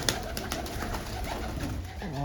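Red bearded pigeons coo steadily in a loft or coop setup, a dense low murmur of many birds close by with no pauses.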